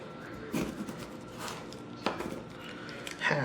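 A knife cuts a lime in half on a board, giving a few distinct close knocks and thuds spaced a second or so apart in a quiet kitchen.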